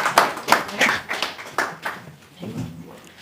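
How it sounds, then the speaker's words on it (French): An audience at a launch event claps for a speaker, sharp irregular hand claps from a small group that thin out and fade toward the end, with a faint voice beneath. "Merci, on peut l'applaudir s'il vous plaît."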